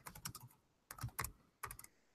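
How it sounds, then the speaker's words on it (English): Typing on a computer keyboard comes in three quick bursts of close, crisp key clicks with short pauses between them, quiet overall and no talking. "Typing on video"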